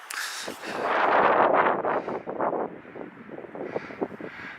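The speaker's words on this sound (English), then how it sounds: "now this chilly wind is blowing hard" Strong, chilly wind buffets and roars across the microphone in uneven gusts near a summit in Desolation Wilderness, with no voices.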